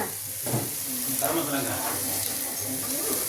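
Chicken sizzles and crackles steadily in a hot pan, close by, while a voice talks over the frying.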